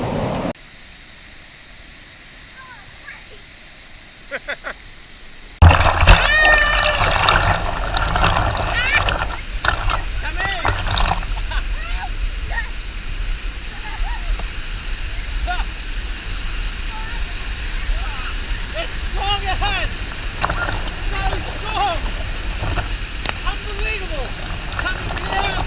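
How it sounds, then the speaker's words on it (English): Waterfall pouring into a swimming hole in Vanuatu, a steady loud broadband roar of crashing water that starts abruptly and continues throughout, with voices talking faintly over it. "the power of this waterfall was unbelievable"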